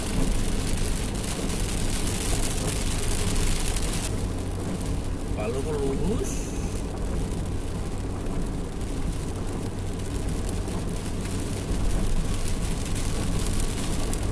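Steady rain hiss fills the background throughout, with a low rumble, while people talk over it.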